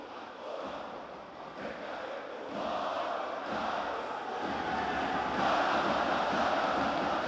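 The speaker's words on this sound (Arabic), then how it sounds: "الجمهور العظيم اللي بيملا جنبات الصاله بالنادي الاهلي" Large crowd in the Al Ahly club volleyball hall during a men's African championship final against Tala'ea El Gaish, a dense, continuous roar of cheering and chanting that swells louder toward the end.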